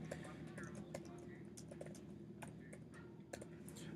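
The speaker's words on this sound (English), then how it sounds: "You can see that I'm typing right now." Quiet, irregular clicks of keys being tapped on a computer keyboard over a low steady hum.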